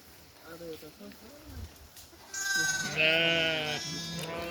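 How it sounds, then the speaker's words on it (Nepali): Sheep grazing bleat in several wavering calls, loud and close in the second half, after a person talks briefly at the start. "भेडाहरू भेडा पारीसम्म चरिरहेको"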